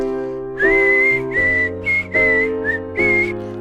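A person whistles a short, clear melodic phrase in several sustained notes with small gaps, above soft piano chords, as ad-lib whistling.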